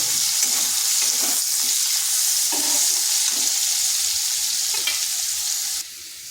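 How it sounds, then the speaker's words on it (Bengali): Pointed gourd and egg fry in a pan, a loud, continuous close sizzle with scattered stirring clatter, then a sudden drop in level near the end. "এটাকে আর কিছুক্ষণ ভেজে নিতে হবে।"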